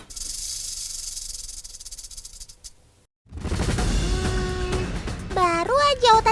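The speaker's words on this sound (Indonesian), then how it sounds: "Ular dengan ekor khasnya yang bisa mengeluarkan suara." A rattlesnake shaking its tail in a continuous dry, buzzing hiss that stops abruptly, then resumes loud and close, joined by tonal music and whooshing sound effects near the end.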